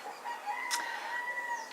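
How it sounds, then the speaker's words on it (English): A parrot on Bonaire gives a drawn-out, tonal call with a short burst in the middle, heard fairly clearly against light outdoor background. "And the other one you hear, that's a parrot."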